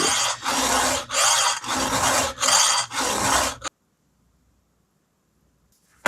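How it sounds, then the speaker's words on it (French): A hand file rasping a chainsaw tooth in six quick back-and-forth strokes, loud and close with a gritty metallic scrape, then sudden near-silence for the remaining seconds. "ce qu'on veut, c'est limer jusqu'à temps que ça soit droit"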